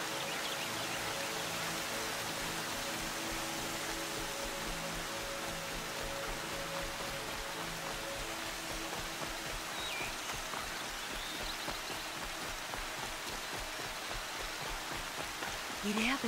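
Steady rain in the video game Horizon Zero Dawn, a dense, even hiss of falling water that holds at the same level throughout with no pauses.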